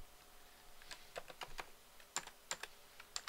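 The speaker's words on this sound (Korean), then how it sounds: "아쉽지만 타이핑" Quiet, close typing on a computer keyboard while entering code, a quick irregular patter of individual key clicks with small bursts and short pauses.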